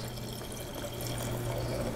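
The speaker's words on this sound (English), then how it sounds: "We're ready to pour the second glass." Wine pours from an Eve decanter into a glass, a steady, close liquid trickle that runs without a break for the full two seconds, with no talking.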